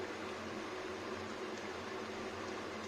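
A microwave oven runs steadily while food cooks inside, giving an even, faint hum with no pauses and no voices.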